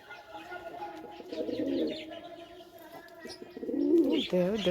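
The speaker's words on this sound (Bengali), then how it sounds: "নতুন পায়রা জল খাওয়ার জন্য উঠলো জল খাচ্ছে একটুখানি" A newly arrived pigeon in a backyard colony gives soft, low, repeated coos while it sips water, with a few faint chirps mixed in, close and fairly quiet.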